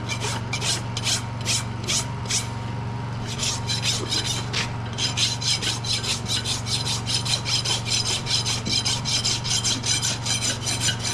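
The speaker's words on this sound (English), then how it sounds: "Your rasp definitely cuts better than mine" A farrier's rasp files a horse's hoof during shoeing, making loud, close, rhythmic back-and-forth rasping strokes, a few spaced strokes and then a steady fast run, over a constant low hum.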